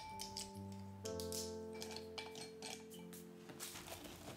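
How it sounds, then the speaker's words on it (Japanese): Crisp snaps and clinks of a chocolate bar being broken into pieces and dropped into a heatproof bowl, irregular and close, over a steady tonal background hum. "板チョコなら細かく割って耐熱ボウルに入れます。"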